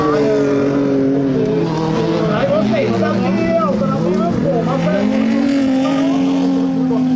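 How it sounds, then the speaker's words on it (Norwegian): Rallycross race car at a club meet, its engine droning steadily and loudly with shifting pitch as it drives the track, under continuous commentary. "nå skal vi se om han har fått gjort noe med kjøreegenskapet på bilen av Torbakken"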